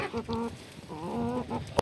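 Several hens cluck in short, uneven bursts close by, with a brief sharper squawk near the end and a faint outdoor background of light rain.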